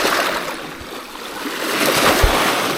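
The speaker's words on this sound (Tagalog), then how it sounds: "Ayun guys ay, lalaki ng alon" Ocean waves washing and rolling nearby on the Marinduque coast during abalone gathering, a broad hissing surge that swells toward the end.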